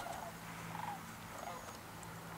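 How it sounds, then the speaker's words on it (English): A flock of geese flies overhead in the countryside. Their honking calls come in a few short, fairly faint bursts over a steady low background hum. "a bunch of geese decide to fly over."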